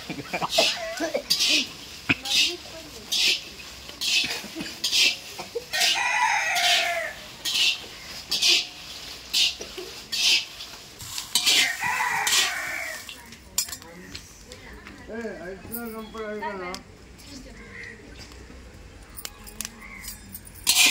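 A rooster crows once in the middle distance, a wavering drawn-out call heard amid kitchen clatter and people chatting nearby.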